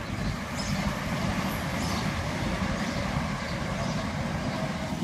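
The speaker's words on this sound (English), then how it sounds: "Train." A train rumbles past with a continuous low, heavy roar and rattling, steady throughout.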